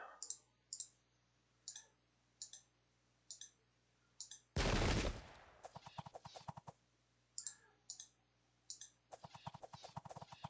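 A Sengoku Jidai unit fires a volley in battle, a loud sudden burst followed by rapid crackling shots, with another crackling volley later over steady repeated clicking.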